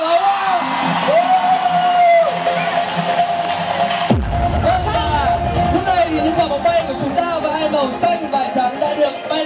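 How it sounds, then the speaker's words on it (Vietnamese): An audience at a large youth event for World Intellectual Property Day in Vietnam whoops and cheers under a host's loud voice. A sudden low rumbling surge of applause and crowd noise rises midway and holds to the end. "Xin quý vị hãy dành một tràng pháo tay thật nồng nhiệt."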